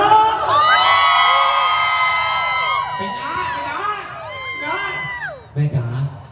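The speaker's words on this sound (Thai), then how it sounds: "ตรงนี้ก็ตะโกนอย่างดังนะแม่นะ ขอเสียงแฟนคลับน้องไรอันใหม่เลย" A crowd of fans cheers and shouts at a Loy Krathong temple festival at Wat Satue in Ayutthaya, with loud, sustained voices rising together, then tapering into scattered yells and a few sharp bursts near the end.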